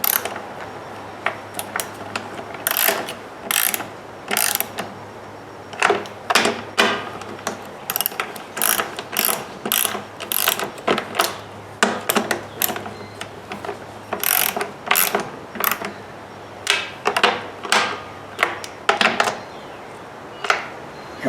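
A ratchet snugs down bolts on a Toro Recycler lawnmower with a Kohler XT675 engine. Close, loud bursts of rapid clicking repeat again and again over a faint steady hum, with no voices.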